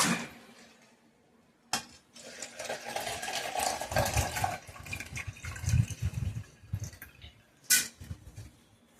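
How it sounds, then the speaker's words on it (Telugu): Water is poured into a container with a splashing, gurgling rush, then trickles off after a few seconds. "ఇప్పుడైతే ఇదిగోండి ఒక రెండు గ్లాసులు అయితే వాటర్ పోసాను ఇందులో"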